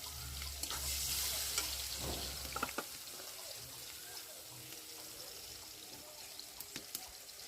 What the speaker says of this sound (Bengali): ওই তেলের মধ্যেই দিয়ে দিলাম ডিম ভাজা